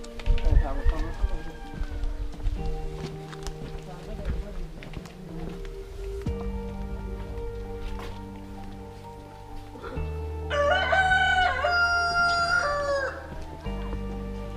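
A rooster crows once, fairly clearly, in Ghanpokhara village in Lamjung, Nepal, rising over steady background music and some talking.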